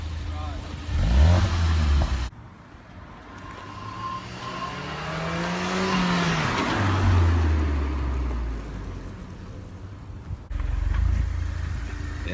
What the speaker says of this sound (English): Listening to that cold air sucking all that air in